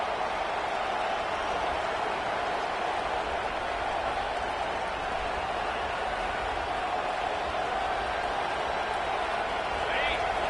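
A packed Michigan football stadium crowd roars in one dense, continuous wall of noise that holds steady throughout, loud and enveloping with no breaks.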